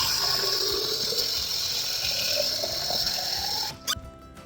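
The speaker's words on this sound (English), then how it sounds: "First, I'm going to put some water in it." Water runs from a tap into a Stanley tumbler with a continuous splashing rush, then stops abruptly near the end, followed by a brief clatter.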